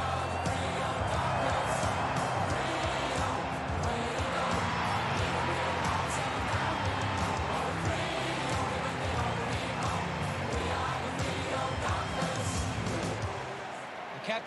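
Dense stadium crowd at an AFL match between Fremantle Dockers and West Coast Eagles, a steady loud roar of cheering and chatter sustained throughout, with commentary-like talk mixed in and a slight drop near the end.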